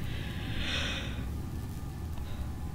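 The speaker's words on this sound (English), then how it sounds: "I shall ignore those noises, that snuffling, those snuffling steps below me" Faint snuffling and snorting in the dark depths of Amnesia: A Machine for Pigs, as a creature shuffles somewhere below. A short breathy snort rises early, then fades into a low rumbling ambience.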